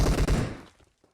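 Gunfire in a battle royale video game: a loud burst of rapid shots packed into the opening half second, then quickly fading, with faint echoes trailing off and no talk.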